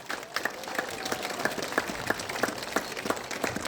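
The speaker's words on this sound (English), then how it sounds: "Let us give a big clap of hands for the school management." An audience at a St Mary's school week event claps for the school management, a steady, continuous round of applause with distinct individual claps throughout.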